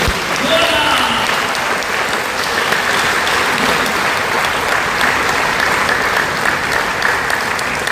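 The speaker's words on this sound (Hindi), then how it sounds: "तो मैं आप चाहूँ सभी से चाहूंगा एक बार इनके लिए जोरदार ताली दीजिए।" Loud audience applause at a business and health product presentation, a dense continuous clapping crowd sustained throughout, close and filling the room.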